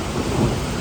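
A loud, deep rumble of thunder rolls through a heavy rainstorm over a small farm field, with dense rain noise underneath in a short burst.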